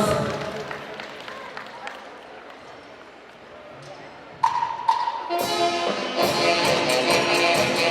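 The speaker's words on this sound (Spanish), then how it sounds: "Bien, fuerte palmas." Wedding guests break into applause after a voice speaks over a quiet room; the clapping starts around the midpoint, swells into a dense, steady burst and stays loud to the end.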